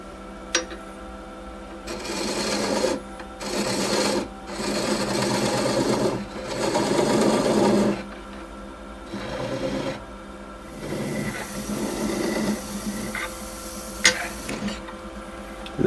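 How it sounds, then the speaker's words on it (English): Cutoff on a wood lathe with a straight edge skew chisel, a spinning workpiece giving bursts of scraping, whirring cutting noise in repeated passes separated by short pauses, close and loud with no talk. "So we'll do the cutoff here. I'm using a just a simple straight edge skew."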